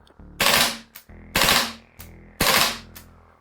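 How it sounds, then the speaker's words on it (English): Three rapid bursts from a VFC airsoft MP5 gas blowback rifle firing at about 1100 rounds per minute, each a sharp, loud rattle of a few shots with a clack between, spaced roughly a second apart, no talking. "it kicks out zippy 3-shot bursts, and will do so for the entire magazine without any noticeable slowdown"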